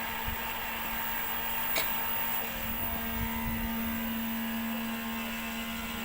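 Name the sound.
Ingenuity helicopter demonstrator rotors spinning up at takeoff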